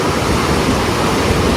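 Floodwater rushes across a road after heavy rain, a loud, dense, continuous roar of flowing water close by with no other sounds.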